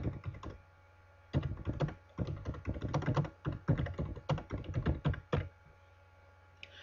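Typing on a computer keyboard: close, quick runs of key clicks and taps in irregular bursts, with a brief pause between the first few strokes and the longer stretch that follows.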